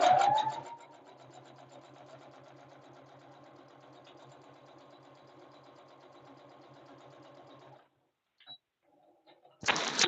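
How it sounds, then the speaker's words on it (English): A sewing machine stitches up the side of a folded 30 by 6 inch strip of fabric, running at a steady, even hum for several seconds before stopping, with a few faint clicks and a brief louder sound at the end. "I'm gonna go ahead and stitch this side up."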